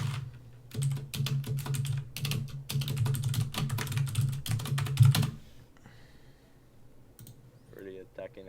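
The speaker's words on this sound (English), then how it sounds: "Really attacking that keyboard." Rapid, dense typing on a computer keyboard while coding, a fast run of loud close key clicks for about five seconds, then quieter scattered taps with a brief voice at the end.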